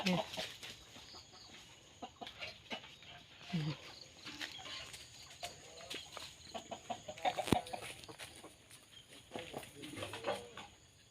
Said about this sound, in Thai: เลี้ยงไก่อยู่ตามทุ่งไห้ทุ่งนานะคะ